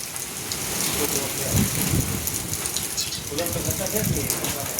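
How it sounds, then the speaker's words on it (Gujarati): Heavy rain pours down during a windy storm in Vav-Tharad, Banaskantha, Gujarat, a loud, dense hiss with gusty rumbling swells that rise and fall throughout. "લાઈવ વરસાદ વાવાઝોડા સાથે"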